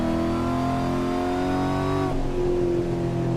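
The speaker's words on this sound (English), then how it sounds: "Oh, this car sounds amazing, Jojo." In the racing game Assetto Corsa, a Cadillac engine hums with a steady, loud drone rich in harmonics, then its pitch shifts as the revs change partway through.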